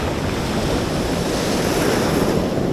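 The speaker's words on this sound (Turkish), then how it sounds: "Dalga vurduktan sonra sert bir şekilde geri gidiyor." Rough sea waves with strong current crash and wash back along the shore during a fishing outing, a loud continuous roar of surf close by with wind buffeting the microphone, no voices.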